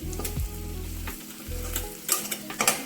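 Ground coriander, cumin and coconut-poppy seed powders frying with ginger and garlic in a pan for gongura curry, a soft steady sizzle with scraping stirs of a spoon, close and quiet, no voices.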